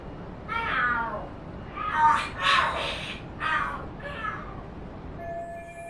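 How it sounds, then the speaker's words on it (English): Cats fight and scream in the video game Lost Judgment, giving several drawn-out, wavering yowls and caterwauls in bursts that rise and fall over a low background hum. "The hell are there cats fighting?"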